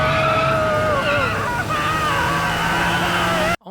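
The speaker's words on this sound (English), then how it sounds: "both of the cars crash" Two cars in a movie scene skid hard, a sustained loud tire squeal with engine roar lasting several seconds, then cut off abruptly at the end.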